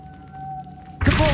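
A Depulso spell is cast in the Hogwarts Legacy video game, landing as a sudden loud whooshing impact with a heavy thud after a quiet tonal hum, ending the short clip abruptly.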